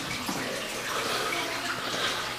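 Water running somewhere inside a house, a steady even hiss that continues without a break across the short stretch.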